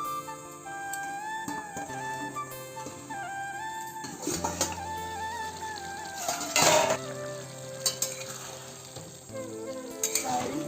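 Bengali-style soyabean curry sizzles steadily in a pan while a spoon stirs it, scraping and clinking against the metal in irregular bursts throughout, close and continuous with no talking.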